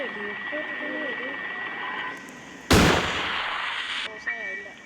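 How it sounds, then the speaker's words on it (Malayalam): A single loud burst of gunfire bursts out midway, followed by a sustained rushing blast that lasts over a second, with voices talking before and after it. "വെടിവെപ്പ് വരും."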